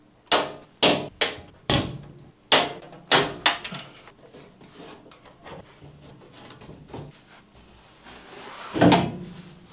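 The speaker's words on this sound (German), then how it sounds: "Wir wuchten das 125 Kilo Monster hier rüber, schrauben auf der Seite den Deckel ab und schauen mal rein." Side cover being unscrewed and taken off a 125 kg Chinese machine, a series of sharp metallic clacks and knocks in quick succession, then quieter scraping and handling with one louder clatter near the end.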